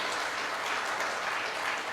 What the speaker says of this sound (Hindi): give yourself a big big round of applause, एक जोरदार तालियां आप सभी के लिए